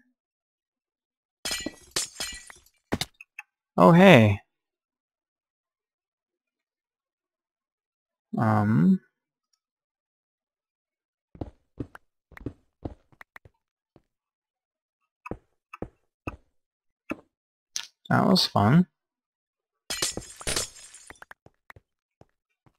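Glass blocks breaking in Minecraft survival: several quick game shatter sounds scattered among sparse clicks and taps, each crisp and brief, with someone talking in short bursts between them.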